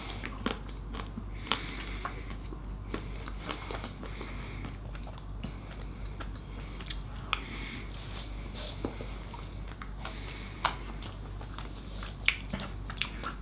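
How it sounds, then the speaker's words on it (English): Crisp bites crack through the crunchy ruby chocolate shell of a Magnum Ruby Berries and Cream ice cream, followed by quiet chewing, with sharp clicks scattered over a low steady hum, close but fairly faint. "It's not like cheap chocolate that's just easy to bite, but this is like crunchy chocolate."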